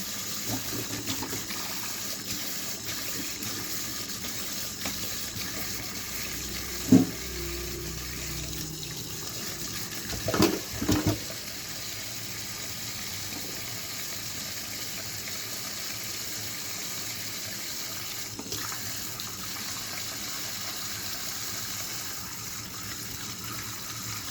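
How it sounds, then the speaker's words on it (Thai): Sweet potatoes with yellow flesh rinsed under a running kitchen tap, a steady continuous water hiss with a few brief knocks and clunks from handling partway through. "ก่อนอื่นก็คือล้างทำความสะอาดมันก่อนนะคะ"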